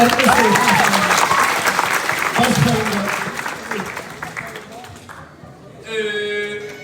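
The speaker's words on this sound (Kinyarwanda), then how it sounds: "amashyi menshi cyane" Loud, dense applause from a crowd at a Master Guide investiture ceremony in a Seventh-day Adventist church fills the room, fading gradually before a voice rises alone at the end.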